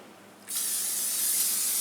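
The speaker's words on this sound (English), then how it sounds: "I'm just going to lightly spray it with some nonstick spray." A steady nonstick cooking spray hiss onto a broiler pan starts abruptly and continues evenly, close and fairly loud, with no talking.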